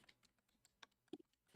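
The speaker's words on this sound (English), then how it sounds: "I hear Sam typing furiously." Keys on a computer keyboard clatter in sparse, quick taps, faint and close, followed by a louder knock at the end.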